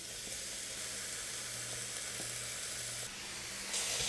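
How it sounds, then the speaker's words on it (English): Two pounds of ground sirloin sizzle in a preheated Hexclad saute pan over medium heat, a steady close hiss with faint occasional ticks and a brief swell of frying noise near the end, no voices. "My saute pan is preheated, so I'm going to add my ground sirloin"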